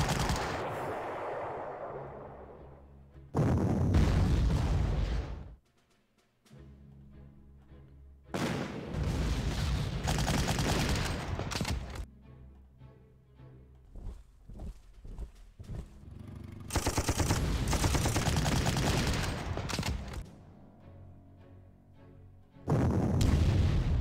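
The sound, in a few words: artillery fire in video game Panzer Corps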